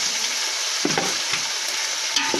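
Onions and tomatoes frying in a pan over a wood fire, a dense, loud sizzle with a few soft knocks of stirring, heard close up with no talking.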